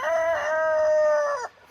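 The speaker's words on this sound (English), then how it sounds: "roosters, they always got to talk when I'm talking" Rooster crowing close and loud at an off-grid homestead, one long drawn-out crow that cuts off abruptly, with no talking over it.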